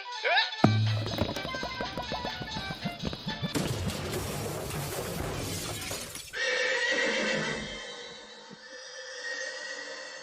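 A loud horse whinny rings out, followed by crashing, clattering effects and then a strange whooshing, warbling sound trailing away.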